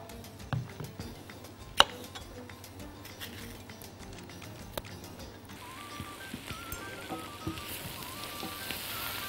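Sliced banana sautés with onion in a pot while making a yellow soup. A faint, steady sizzle runs throughout with a few sharp clinks and knocks.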